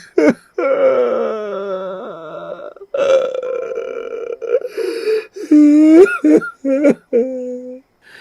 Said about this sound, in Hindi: तभी महल के एक गुप्त कोने से रोने की आवाज आती है।